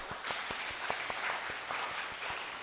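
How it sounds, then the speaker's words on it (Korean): A church congregation gives its teachers a round of applause: steady clapping from many hands throughout, moderately close and fairly soft. "우리 다시 한 번 더 격려와 감사의 박수를 한번 줍시다"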